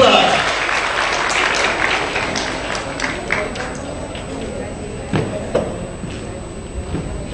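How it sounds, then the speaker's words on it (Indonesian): Audience applause at a 2017 STMIK and Politeknik PalComTech graduation ceremony in a hotel hall, honoring the top graduates; steady clapping that fades out with a few scattered claps, with a voice speaking over it. "Sekali lagi beri tepuk tangan buat lulusan terbaik STEMIK Palkomtek tahun"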